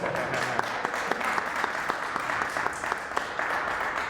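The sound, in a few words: audience applause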